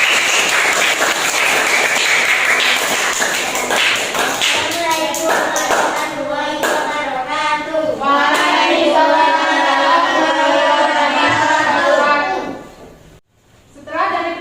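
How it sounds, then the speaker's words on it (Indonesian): A class of students claps close by, the clapping soon joined by children's voices chanting together, then a brief near-silent pause before sound returns. "Kita tepuk tangan untuk kita semua."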